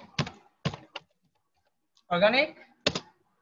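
Computer keys struck one word at a time, a few separate clicks, then a short gap, then a brief burst of voice and a final keystroke, close and clear.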